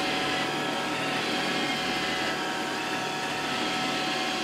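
An iRobot Roomba 645 robot vacuum runs with a loud, steady whirring drone that holds unbroken throughout, with no talking.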